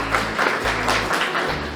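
A farewell audience applauds a retiring teacher at her retirement ceremony, producing a steady, moderately loud wash of clapping that runs throughout with no speech over it.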